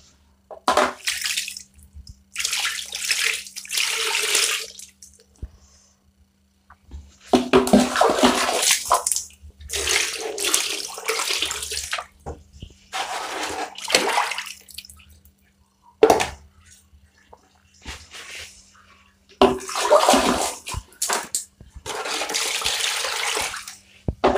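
Toilet flushing fish scraps down the drain in a small rented room, with rushing water that comes in repeated loud bursts separated by short quiet gaps, near and steady with no talk.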